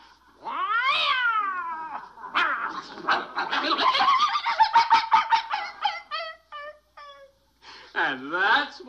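A person imitates a cat, giving drawn-out yowling meows at the start and end with quick chattering vocal sounds in between.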